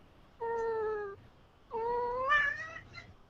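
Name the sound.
cat meowing, not wanting to be picked up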